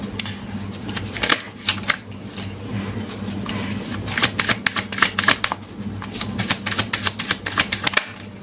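Tarot cards being shuffled by hand, a close run of crisp riffling and flicking bursts that come in quick clusters, heavier in the second half, with faint hum beneath and no speech.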